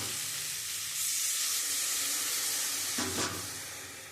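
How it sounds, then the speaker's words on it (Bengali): Water poured into a hot pan of okra and poppy-seed curry sets off a steady sizzling hiss, swelling and then briefly flaring up before easing, close and without talk. "এবার আমি জল দিয়ে দেবো"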